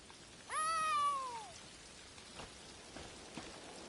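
A cat meows once inside The Elder Scrolls Online, a single rising-then-falling call that stands out clearly over a steady bed of rain, followed by faint scattered ticks.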